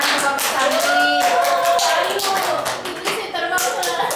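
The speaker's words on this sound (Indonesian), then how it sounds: "Beri tepuk tangan kelompok cantik." A classroom group claps for fellow students, a brisk burst of hand clapping mixed with children's voices and chatter that fades briefly before picking up again.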